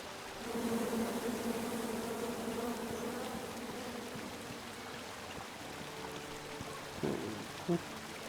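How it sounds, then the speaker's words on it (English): A steady, droning buzz of bees in the video game King's Quest hums continuously, fairly close, with a couple of brief clicks near the end. "Come at me, bees!"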